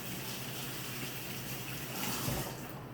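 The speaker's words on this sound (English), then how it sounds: "let me wash my hands." Hands washed under a running kitchen tap, a steady quiet wash of water with slight shifts in flow and no talking.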